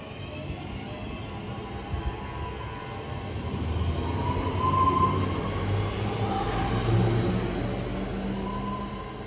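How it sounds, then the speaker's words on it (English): Northern electric multiple unit, class 323 set 323213, pulling out of Manchester Piccadilly on the 1403 service to Stoke-on-Trent, a steady rumbling rail roll that swells midway as it passes, with a faint tonal hum, no talking. "Departing out now is the 1403 Northern service from Manchester Piccadilly to Stoke-on-Trent."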